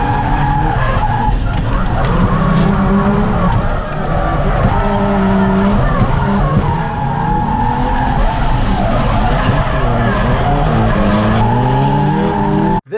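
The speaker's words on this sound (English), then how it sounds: "This was actually the first lap that I turned at the Matsuri at the Togye course in my new JZX100" A Toyota JZX100 drifting at Ebisu Circuit during a drift event, with continuous loud tire squeal and a revving engine filling the whole lap, close and sustained with sliding pitch changes and no pauses.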